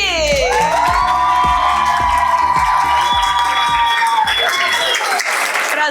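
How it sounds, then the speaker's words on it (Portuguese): A crowd at a fan convention claps, cheers and whoops loudly to welcome a voice actor on stage, with sustained shouting and music-like tones under the dense applause. "Então eu quero que vocês recebam com muitas palmas Luiz Carlos Percy!"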